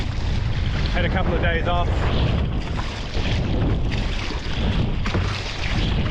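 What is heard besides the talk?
wind while kite surfing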